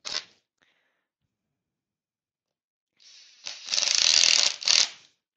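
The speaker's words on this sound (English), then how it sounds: "screw that back into place" A screw is driven back into a wooden steady rest, heard as a short whirring burst from a driver, a pause of silence, then a longer close buzzing whir that tightens and stops.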